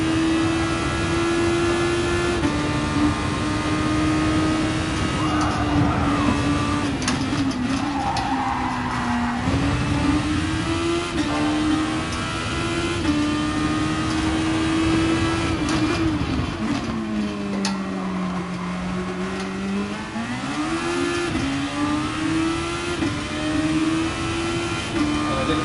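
Open-wheel race car engine in the racing game GT Sport, a loud steady high-pitched whine that climbs and drops through gear changes and braking, with occasional tire skids, continuous throughout with no talk.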